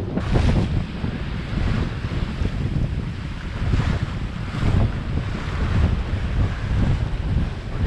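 Breaking waves surge and crash around a sailboat making about 7 to 8 knots on the sea between Gambia and Casamance, while gusty wind buffets the microphone in a continuous, loud roar.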